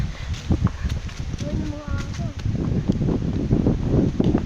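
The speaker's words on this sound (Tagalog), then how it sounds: "Ay, ang lakas ng hangin." Gusty wind buffets the microphone in heavy low rumbles during a horse ride, with a person speaking briefly over the noise partway through.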